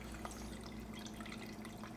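Water runs steadily from a refrigerator dispenser fitted with a newly installed Waterdrop filter, a continuous low splashing flow heard close up for the whole stretch, with no talking over it.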